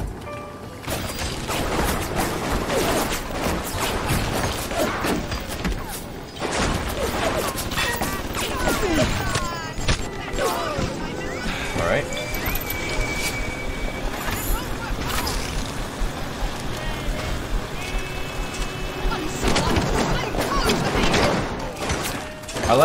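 Automated turret gunfire in BioShock's Arcadia gardens, bursts of mechanical rattling shots coming in clusters amid clanks and clatter, with a voice talking intermittently over the fighting.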